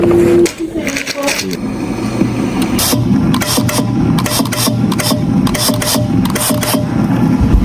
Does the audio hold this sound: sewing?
yes